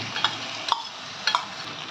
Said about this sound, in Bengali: আদা রসুন আর পেঁয়াজটা আমার অনেকটাই ভাজা হয়ে গেছে